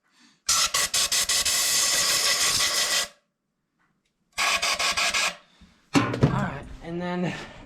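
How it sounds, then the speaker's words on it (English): An air compressor's blow gun sprays air over an engine in two close, loud hissing blasts, the first about two and a half seconds long with sputtering pulses, the second about a second, followed by someone speaking. "we'll start by grabbing air compressor"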